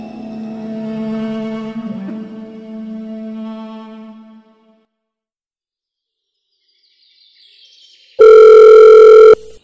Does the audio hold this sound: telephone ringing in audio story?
yes